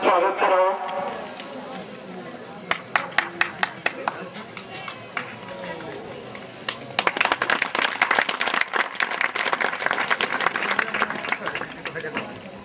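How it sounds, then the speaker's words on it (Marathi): An audience at a Marathi stage play in rural Undargaon, Osmanabad, claps to welcome theatre guests to the stage. A voice speaks first, then scattered single claps give way to denser, livelier applause. "नाट्य रसिकांना विनंती आपण त्यांचं जोरदार टाळ्या वाजवून स्वागत करावं."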